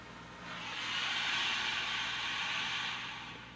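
Steam iron hissing as it presses a seam on a classic T-shirt dress collar, a steady airy jet that swells in and tapers off over a few seconds, with no other sound around it.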